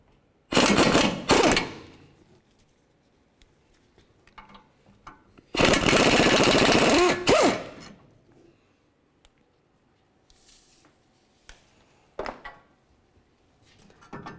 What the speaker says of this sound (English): Now we can remove our second bolt.